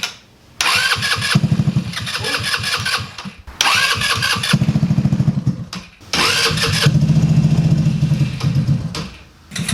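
A small gas go-kart engine with a freshly cleaned carburetor cranks and catches, running loud and close in three rough bursts separated by brief stalls, with a sputtering, uneven idle.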